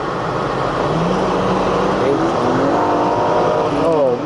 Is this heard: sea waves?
no